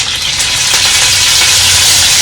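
Curry leaves and chillies hit hot oil for a quick okra bhaji and crackle into a loud, dense, continuous sizzle, a bright frying hiss held close and steady with no talk.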